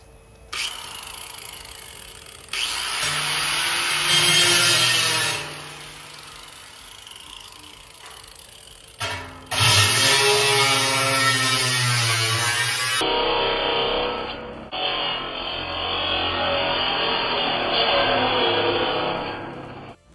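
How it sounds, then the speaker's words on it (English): An angle grinder with a cutoff blade cutting metal for a DIY deer feeder, several loud whining bursts that start, bite and stop, separated by brief pauses. "We're going to try a grinder now and see if we can't tear something up this way."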